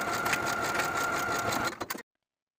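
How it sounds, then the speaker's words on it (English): A sewing machine runs steadily, stitching the long raw edges of folded fabric straps with a 3/8 inch seam allowance, a continuous close whirr that slows and stops with a few final clicks near the end. "And then sew those long raw edges with a 3/8 inch seam allowance."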